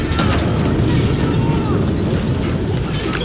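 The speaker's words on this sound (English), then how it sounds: "we have multiple explosions across the facility" Heavy, rumbling blasts and booming detonations roll continuously with a dense low-end roar, a loud Call of Duty: Black Ops III battle scene with faint voices underneath.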